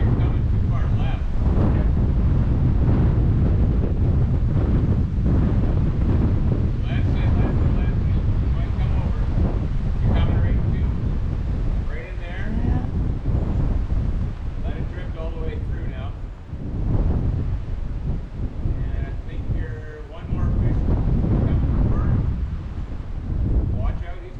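Strong wind batters the microphone while fly fishing for trout on a river in Patagonia, a loud continuous roar with gusty swells. Voices are heard now and then beneath it.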